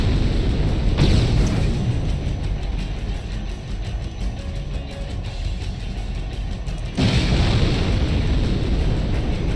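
Grenade blasts in the mech combat game Armored Core 4: two loud, sudden booms several seconds apart, each followed by a heavy rumbling roar that lingers between them.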